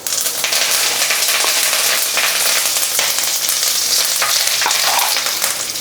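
Curry leaves with mustard seeds and urad dal crackle and sizzle in hot oil for Pallipalayam chicken, a loud, continuous close-up frying hiss with small pops and stirring scrapes, no voices.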